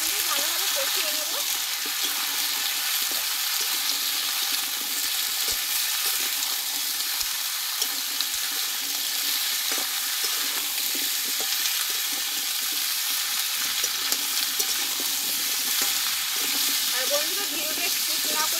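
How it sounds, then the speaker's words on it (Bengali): Potato and pumpkin chunks sautéing together in a pan for a vegetarian pumpkin dish, a loud, continuous sizzle with occasional stirring scrapes and light clicks throughout. "আলু আর কুমড়োটা আমি একসঙ্গে ভালোভাবে কষিয়ে নেব।"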